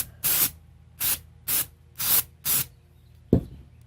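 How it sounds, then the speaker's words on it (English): Five short, loud bursts of aerosol brake cleaner sprayed onto the rubber bead of a flat lawn mower tire, evenly spaced hisses followed by a brief knock, close up with no talking. "I'm going to take some like brake cleaner"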